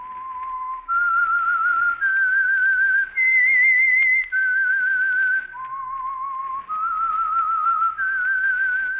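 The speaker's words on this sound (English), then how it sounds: "That whistle is your signal for the Signal Oil Program, The Whistler." A lone human whistler performs the melodic theme signal of the Signal Oil radio mystery program, a clear, close, sustained tune of held notes rising and falling in steps over about nine seconds, with no talking.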